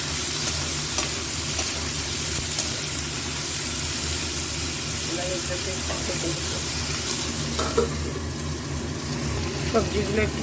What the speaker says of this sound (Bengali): সবজিগুলো একটু নুন দিয়ে ভেজে নিয়েছি